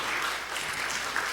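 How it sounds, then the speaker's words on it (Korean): A church congregation applauding during a Sunday morning service, warm steady clapping from many hands, brief and continuous, with no talk over it. "따뜻한 박수를 한번 하시면 좋겠어요."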